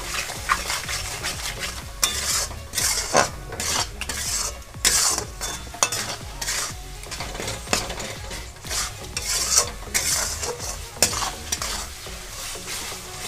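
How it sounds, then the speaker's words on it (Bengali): Garlic paste and green chilli paste frying in a pan, stirred hard with a spatula, busy repeated scraping and clattering strokes over a constant close sizzle, with no voices. "সমস্ত মশলাগুলোকে এবার আমি খুব ভালো করে কষে নেব"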